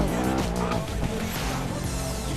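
A BMW in the 2012 Need for Speed racing game roars along with engine drone and sharp tire squeals and skidding, loud and continuous throughout the short stretch.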